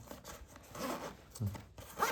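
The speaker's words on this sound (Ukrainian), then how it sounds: "Блискавки." Zipper on an EGER Pulsar everyday-carry backpack is pulled open in several short, close rasping strokes with brief pauses, moderately loud, with no talking.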